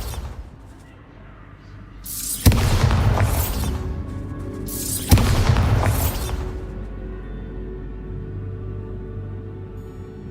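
Two heavy blasts of the Bombarda spell in the video game Hogwarts Legacy, each a sudden loud boom followed by a roaring, crumbling rumble that fades over a couple of seconds, set against a quiet ambient background.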